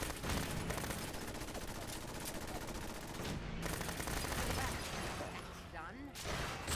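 Gunfire in the video game Fallout 4 rattles in dense, continuous bursts against an enemy, mixed with mechanical clatter and game effects, while a person talks over the shooting.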